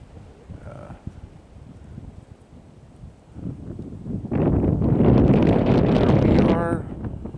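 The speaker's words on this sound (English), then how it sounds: "It's very windy and about 35 degrees." Strong wind at a mountain picnic area where a fire tower once stood, gusts buffeting the microphone, starting moderate and swelling into a loud sustained rush, with a brief voice-like sound near the end.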